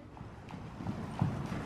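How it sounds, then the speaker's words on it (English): Horse hooves clip-clop in a quick, faint rhythm on the ground while the horse is ridden over jumps at a barn, several light footfalls in a row. "All right, so she's jumping Phil now."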